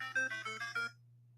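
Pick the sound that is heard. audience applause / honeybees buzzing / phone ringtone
phone ringtone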